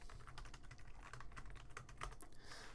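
Password being typed on a computer keyboard during an Arch Linux installation, a steady run of close, crisp key clicks with no talking.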